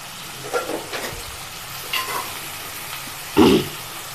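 Thinly sliced onions fry in hot oil for a village-style fish pulusu, giving a low steady sizzle broken by a few soft stirring scrapes and one louder clatter near the end.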